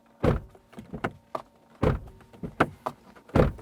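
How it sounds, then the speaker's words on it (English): Several Lotus Emira sports car door thuds and clunks follow one another, a handful of sharp solid impacts spaced irregularly, close by. "This is what the door slam sounds like."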